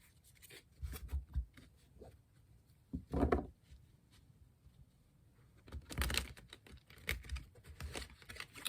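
Tarot cards are shuffled in short riffling bursts, with soft papery flicks and taps between them, close and fairly quiet.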